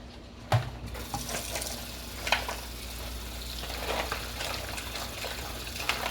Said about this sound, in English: I'm going to rinse them off under the pipe with some water